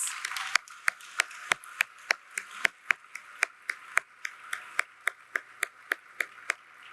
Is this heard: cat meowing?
no